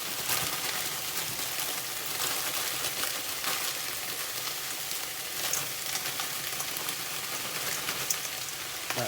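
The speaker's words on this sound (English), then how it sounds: "Here goes the stir fry mix." Stir fry mix of baby corn, mushrooms and chicken teriyaki noodles sizzles in a hot pan, a steady, even hiss like light rain that runs without pause, close and moderately quiet, with no talking.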